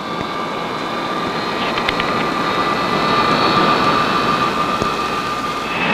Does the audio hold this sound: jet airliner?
yes